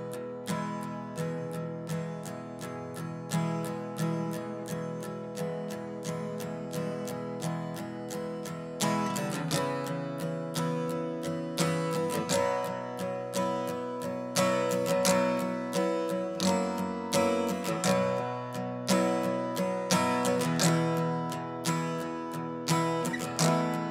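Guitar strumming the verse of the worship song O Come Let Us Adore Him, with a steady rhythmic strum of ringing chords and regular accented downstrokes, moderately quiet and close, with no voices.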